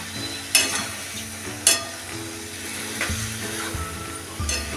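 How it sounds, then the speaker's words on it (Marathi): A spoon stirs raw mango and fenugreek cooking with jaggery and chili powder in a pan, two sharp scraping knocks over a gentle, continuous sizzle, close and unaccompanied by talk. "गूळ टाकून आता हे हलवून चांगलं आपण ह्या मेथी आंब्याला चांगला चटका आणून घेऊया"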